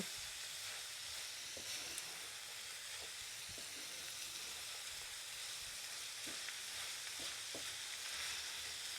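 Rice with minced meat and green peas frying in a single pan, stirred with soft scrapes and a steady quiet sizzle throughout, no voices.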